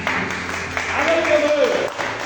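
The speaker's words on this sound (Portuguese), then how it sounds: "Uma salva de palmas para Deus." A church congregation claps during worship, a steady wash of applause with voices singing or calling out over it.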